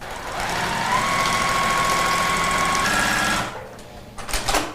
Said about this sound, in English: So Laurel, this is your very first time machine quilting using the little Cutie Tabletop Fabric frame.